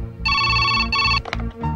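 A telephone rings in a Telugu film scene, two bright electronic ring bursts close together followed by a shorter broken tone, loud and clear with no talking.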